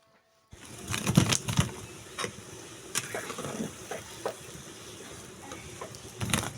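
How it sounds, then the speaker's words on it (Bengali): Bata fish cooking with coriander leaves in a pan, a soft steady sizzle broken by irregular clinks and scraping taps of a utensil stirring, close and moderately quiet, with no speech. "বাটাপোনা মাছ এটা, তো ধনির পাতা দিয়ে রান্না করে নিলাম"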